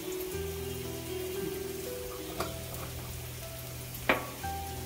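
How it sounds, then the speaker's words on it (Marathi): Spice masala for bitter gourd curry frying in a pan over low heat, a steady close sizzle with soft crackles and one sharper pop near the end, no voices. "भाजून घेते मसाला चांगला"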